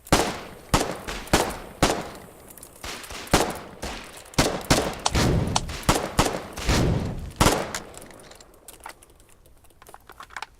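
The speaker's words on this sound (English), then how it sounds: "tried to make the enemy miss while I keep firing shots every time it's ready to shoot" Rapid bursts of gunfire in the war game Foxhole, loud sharp shots in quick irregular clusters during close-quarters fighting, tapering off into quieter background noise near the end.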